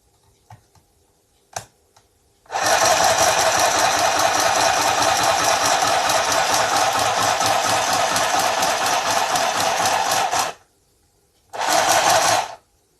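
A sewing machine stitches through iris cardstock in a long steady whirring run of about eight seconds, then pauses briefly before a second short burst, loud and close.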